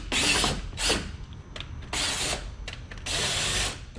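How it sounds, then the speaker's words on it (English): A ratchet driving a nutsert tool clicks in several quick bursts, close and loud, with short pauses between each turn. "getting this ratchet in here makes this pretty easy to install"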